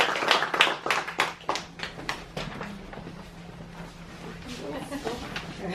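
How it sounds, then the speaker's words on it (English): An audience claps for a writer about to read in Arabic at an open mic evening for exiled writers, a brief burst of applause that thins to scattered claps as a voice begins speaking. "So give her a round of applause"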